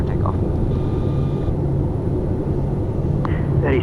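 A heavy aircraft with turning engines sits holding short of the runway before takeoff, giving a loud, steady, low rumble and whine heard from inside, with faint voices in the background.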